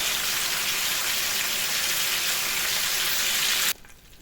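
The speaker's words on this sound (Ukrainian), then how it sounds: "На великому огні просто обсмажую." Liver sears in a little oil over high heat with no flour, making a loud, dense, continuous sizzle that cuts off abruptly just before the end.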